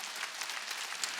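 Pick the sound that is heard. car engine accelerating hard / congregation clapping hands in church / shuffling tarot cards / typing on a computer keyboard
congregation clapping hands in church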